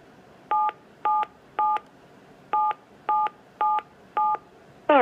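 A phone keypad plays eight short, evenly spaced DTMF tones as digits are keyed in, clear and steady, with a brief pause after the third tone.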